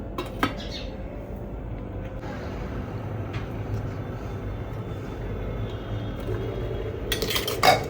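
A metal steamer pot used for steaming corn is handled close by, giving a few sharp clanks and lid clatters over a low rumbling background, with the loudest clatter at the very end.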